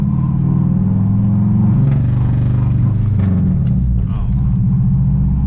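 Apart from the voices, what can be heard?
modified car engine sputtering in limp mode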